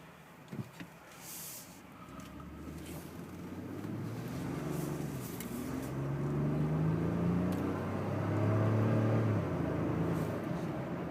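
A 2012 Ford F-150 EcoBoost turbocharged pickup accelerating, heard from inside the cab as a steady, building engine rumble and road roar that swells and rises in pitch over the clip.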